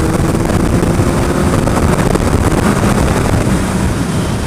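A car driving on the road with a steady loud rush of tyre and wind noise buffeting the microphone, no talk.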